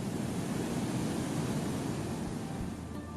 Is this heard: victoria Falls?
yes